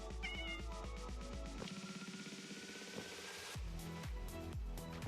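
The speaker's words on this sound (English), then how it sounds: "Oh, kitty." A cat meows in the game StaTech Industry, several short close meows over background music, with a brief quieter stretch in the middle.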